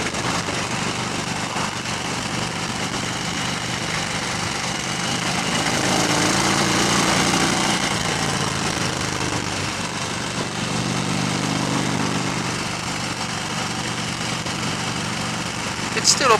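A 2015 Harley-Davidson Fat Bob, a heavy 320-kilo motorcycle, drones steadily on the road, its engine note swelling under the throttle in the middle and easing again, with wind rush throughout.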